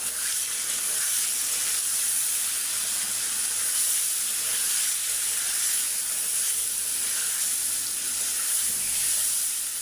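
Spice paste of green chilli, tomato and nuts hits potatoes frying in a pan and sets off a loud, continuous close-up hiss and sizzle that holds evenly throughout with no voices.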